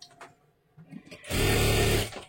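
An electric sewing machine stitching a katori blouse runs in one loud, steady burst of about a second, preceded by faint handling noises and small clicks as the fabric is positioned.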